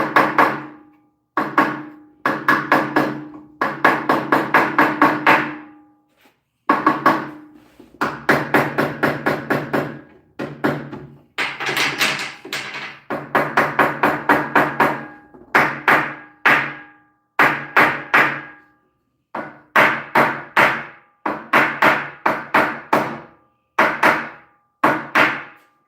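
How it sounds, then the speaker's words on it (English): Repeated bursts of sharp tapping from a flathead hammer driving pin nails down into a miter saw station build, quick close knocks in clustered runs with brief pauses, no talking. "So I'm just gonna take my flathead hammer here."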